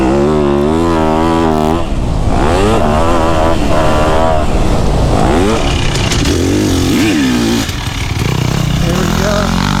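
A brand new dirt bike engine revs hard and close, its pitch climbing and falling in quick sweeps through repeated throttle blips, loud and raspy throughout with a voice briefly underneath.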